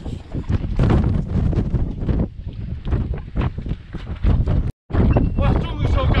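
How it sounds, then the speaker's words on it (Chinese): Strong, cold wind buffets the microphone at the seashore during a rough-weather tide-pool outing, a loud continuous roar with a brief dropout near the end. "今天风很大，很冷"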